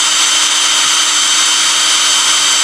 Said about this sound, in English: and then just drill it out.